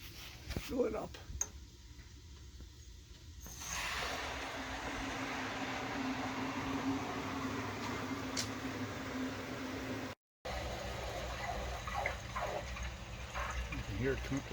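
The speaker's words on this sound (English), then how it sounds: "let's turn the water on." Water rushes steadily into a hot water heater tank after an anode replacement, a continuous hiss and flow with faint ticking, a brief dropout, and some nearby speech over it.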